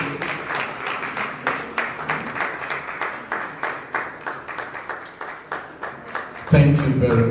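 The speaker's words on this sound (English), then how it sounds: "Let the clapping continue until she takes her seat." Rhythmic clapping from an audience at a reality-show prize ceremony, steady beats repeating about twice a second, then a louder burst of noise near the end.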